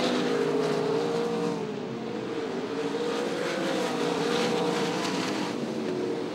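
Speedway race cars roar around a Sydney dirt track in a steady, dense engine drone with layered harmonic whine, loud and continuous with a slight dip partway through, no voices.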